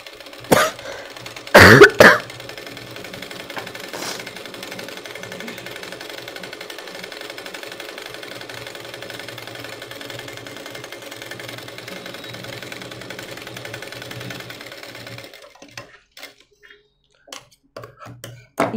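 A sewing machine stitches a frill onto an umbrella dress with a steady, even hum that lasts about fifteen seconds. A sharp cough breaks in near the start, and scattered clicks and handling noises follow once the machine stops.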